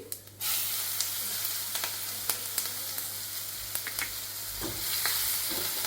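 Green chillies dropped into hot oil with fennel seeds, a sudden burst of frying followed by a steady crackling sizzle and scattered sharp pops, close and with no talking.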